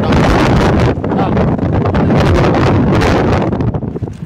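Strong wind on the Cliffs of Moher in Ireland buffets the microphone in loud, roaring gusts that swell and ease with no pause, in a rough, blustery outdoor rush.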